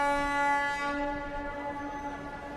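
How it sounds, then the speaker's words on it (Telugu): A train comes to a stop with a sustained, ringing tonal squeal over low rumble, loudest at first and then easing. "ట్రైన్ ఆగిపోయింది బాబు."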